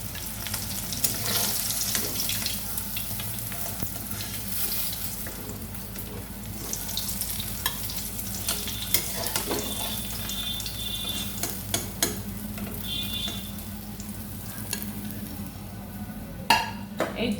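Pieces of katla fish frying in oil in a pan, a continuous dense sizzle lasting throughout with occasional utensil clinks and stirring scrapes, close and fairly loud with no talk.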